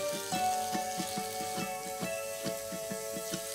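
Chopped onion and tomato fry in oil in a pan, giving a steady, soft sizzle broken by faint rhythmic scraping or tapping of a utensil stirring. The sound is close and fairly quiet.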